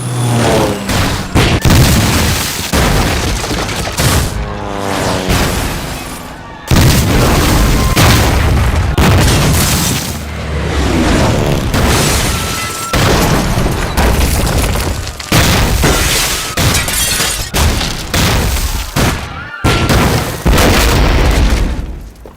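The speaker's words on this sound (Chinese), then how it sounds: "日军对南京进行了第一次轰炸" The first Japanese air raid on Nanjing brings heavy, loud bomb explosions that boom one after another for over twenty seconds, with rumbling blasts and crackling debris almost without pause.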